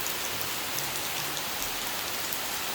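Heavy rain pours steadily during typhoon season at a farm house, a dense, loud, continuous hiss of drops striking surfaces with no talking.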